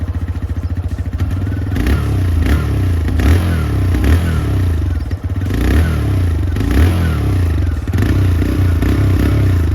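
A TVS Raider motorcycle engine runs loudly and close by, idling with a rough, throbbing beat and surging in several short revs.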